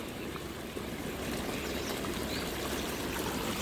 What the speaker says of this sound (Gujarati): તો જો ભાઈ પાણી હાલતું કરી દીધું આપણે.